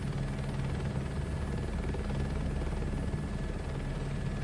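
Helicopter flying in Microsoft Flight Simulator 2024, a constant loud rotor drone with rhythmic low thumping and engine whine, steady throughout with no talk.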